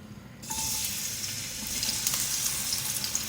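One small sliced onion goes into a quarter cup of hot oil and starts frying with an abrupt sizzle that then holds steady and bright, heard close up with no talking.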